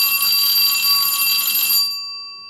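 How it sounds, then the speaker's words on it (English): A bell rings once with a bright, sustained metallic tone that hangs for about two seconds and then fades out cleanly, with no voices heard. "let's ring the bell"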